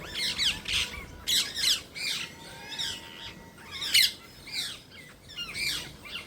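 Parrots squawk repeatedly in harsh, shrill bursts, some close and loud, others farther off, with chirps scattered between them and no talking.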